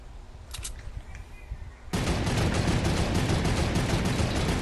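Gunfire from an enemy turret in the Fortnite video game starts abruptly after a quieter stretch, then becomes a loud, continuous, rapid stream of close shots that lasts to the end.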